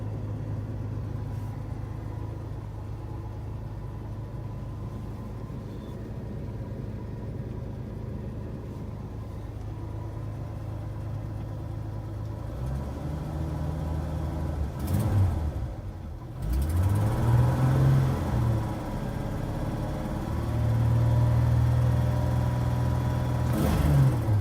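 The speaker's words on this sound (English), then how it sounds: "it sounds alright with the new exhaust" A 1982 Ford F-150 pickup's 4.9-litre inline-six idling with a low exhaust rumble, then revving in a few rising and falling bursts toward the end, close and fairly loud.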